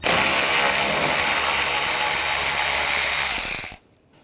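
A ratchet with a 7mm socket clicks rapidly and loudly for nearly four seconds while backing out a screw on a 2014-2018 GMC Sierra 1500 parking sensor bezel, then stops abruptly.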